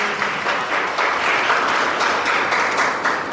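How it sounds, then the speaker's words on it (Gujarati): An audience at an institution gathering applauds to welcome a visiting family, a dense, steady wash of clapping that holds at an even level from start to finish with no talk over it. "આપણે સૌ તેમનું તાળીઓથી સ્વાગત કરીએ"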